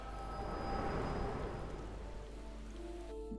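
Steady rain falls in a dark graveyard within a video game, a dense, even hiss of drops holding at a constant level for a few seconds with no voices over it.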